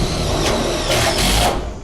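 A power screwdriver whirs loudly and continuously, driving screws into the steel sheeting of an Absco single compact garage shed at a centre upright, with short surges in pitch over under two seconds.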